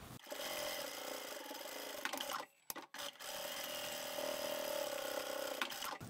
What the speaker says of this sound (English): If it's just a small piece, just quickly go and sew down both edges.